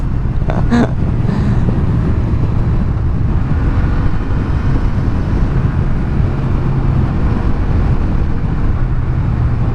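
A new Honda Hornet motorcycle ridden at speed, its engine a steady loud drone mixed with rushing wind across the whole stretch, with a brief sharper burst near the start.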